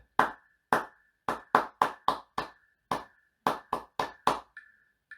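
About a dozen sharp hand claps in a steady rhythmic pattern during a cornet lesson. They are close and crisp, each decaying quickly, with a faint sustained tone at the end.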